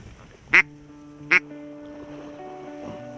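Loud duck quacks during a waterfowl hunt in Canada, two sharp close calls followed by fainter quacking with a steady background hum.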